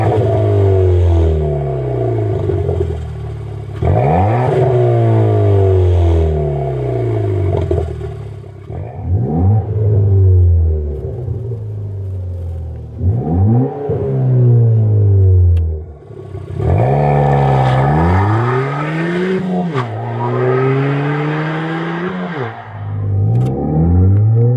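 A 2014-17 Ford Fiesta ST with a 1.6-litre turbo engine and an American Thunder cat-back exhaust revs repeatedly, each loud close blip climbing and falling in rhythmic waves with no talk.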